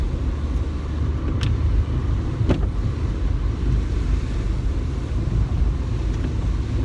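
A car creeps slowly through deep flood water, a low steady engine rumble with water churning and wind buffeting the microphone, and a few brief clicks over the constant wash.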